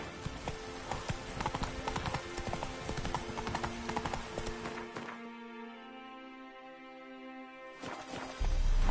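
The horse Roach gallops in The Witcher 3, a steady clip-clop of hooves over music for about five seconds. The hoofbeats then drop out into a held musical tone and return briefly at the end.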